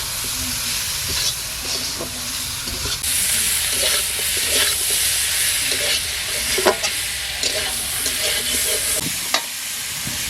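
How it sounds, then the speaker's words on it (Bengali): Chicken pieces fry in a pot on a clay stove, a loud, steady, hissing sizzle with steam and intermittent scraping stirs, heard up close without any voices. "মাংস ভাজা ভাজা হয়ে এসছে"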